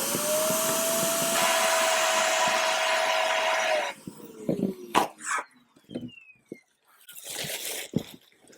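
A vacuum sealer pulls air steadily out of a plastic shipping bag holding a quilt, a loud continuous whine and hiss for about four seconds before it cuts off, followed by scattered crinkles and handling noises.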